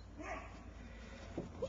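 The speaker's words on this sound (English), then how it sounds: "He's a good puppy." A puppy gives soft, faint whimpers and small yips indoors, with a couple of brief higher squeaks near the end and quiet voices in the background.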